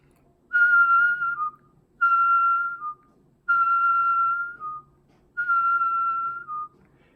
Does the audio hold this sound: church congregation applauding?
no